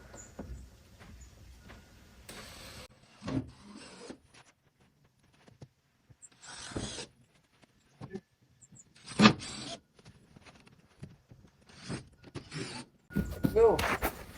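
A power drill drives screws into a wall during a carport-to-man-cave conversion, whirring in several short bursts separated by pauses, with someone talking quietly between them.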